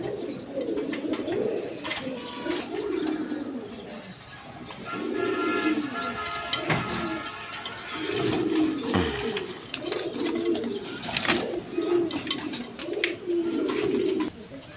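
Pigeons coo repeatedly in low, throaty rolling bursts, several birds close by, with a rumbling background and occasional sharp clatters.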